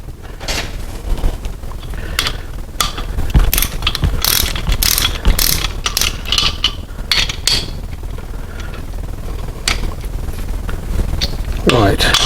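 A torque wrench ratchets as bolts are tightened to 30 foot-pounds during a Land Rover 90 restoration with a 350 Chevy engine, giving repeated clicking bursts up close, with a person talking now and then.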